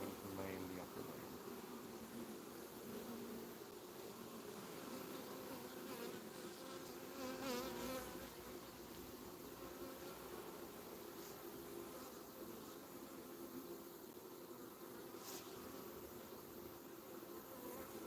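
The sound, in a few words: honeybees buzzing during beehive inspection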